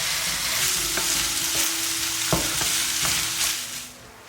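Rice being stir-fried in a pan with cured pork and sausage makes a loud, close, continuous sizzle, with occasional scraping stir strokes and a low hum, before fading at the end.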